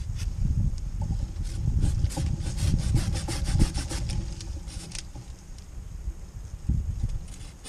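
A sharp hand saw cuts through wood outdoors in steady back-and-forth rasping strokes, close and fairly loud, with a brief pause partway through before the strokes resume.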